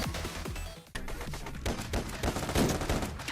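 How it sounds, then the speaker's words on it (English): Weapons fire in Blue Division, a fan-made Blue Archive game, with rapid bursts of gunshots and crackling volleys stacking up over one another, loud and continuous. "My only real complaints are the sounds of the weapons when shooting"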